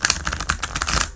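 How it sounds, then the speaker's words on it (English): A deck of tarot cards being shuffled, a dense run of quick papery clicks and flutters close by, steady for about a second. "One more shuffle."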